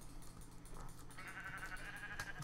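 Sheep bleating in the Minecraft video game, a faint game sound effect heard amid background game audio with music, no speech.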